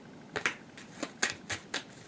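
Tarot cards are shuffled in a quick, even rhythm: about seven crisp, papery flicks in just over two seconds, close by and clear with no voices.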